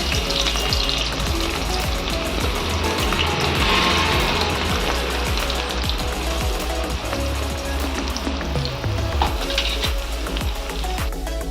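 Onions and green chillies fry in a generous pour of oil, giving a loud, continuous sizzle and bubbling crackle throughout with no talking.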